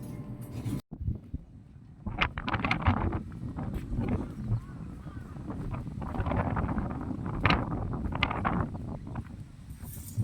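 Gusty wind buffets the microphone in rough, rumbling bursts, rising and falling over several seconds with faint background noises.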